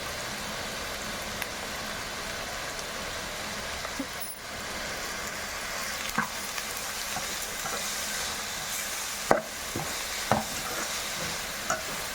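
Onions, tomatoes and green chilies frying in a pan, a steady broad sizzle with occasional clinks and scrapes from stirring, close and continuous, no speech heard.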